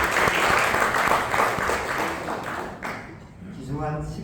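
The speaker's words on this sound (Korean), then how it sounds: "원장님 다시 한번 큰 박수로 맞이해 주시기 바랍니다" Audience applause greets a director returning to the podium at a special lecture, dense clapping filling the room at steady volume before tapering off near the end.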